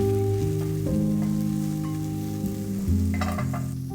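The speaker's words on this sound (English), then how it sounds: "2 teaspoons avocado oil, red onions, carrots. Saute for 2 to 3 minutes." Red onions and carrots sauté in avocado oil over medium heat with a soft steady sizzle under a sustained low musical drone, with light stirring clicks near the end.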